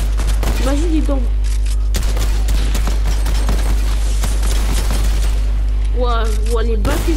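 Rapid bursts of gunfire crackle through a Fortnite match, loud and close, with dense repeated shots layered under excited talk from players.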